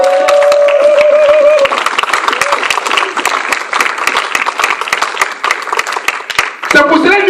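A congregation applauding at a Christian seminar, loud continuous clapping from a large crowd filling the room, with voices and cheering mixed in before a speaker resumes.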